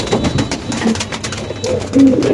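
Checker Maltese pigeon cooing softly in a few low, brief murmurs over steady background noise, with a louder coo near the end.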